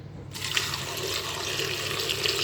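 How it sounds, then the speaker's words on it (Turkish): Water runs steadily from a tap and splashes into a roughly five-kilo pot holding washed plums, a continuous close, bright rushing pour with no talking. "Suyunu ekleyeceğim."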